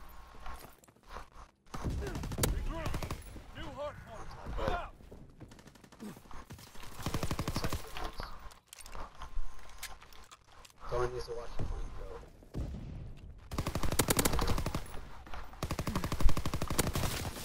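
Bursts of gunfire in a World War II shooter game, shotgun blasts among rapid rifle and machine-gun fire, loud and close, coming in repeated clusters with short pauses while a player talks throughout.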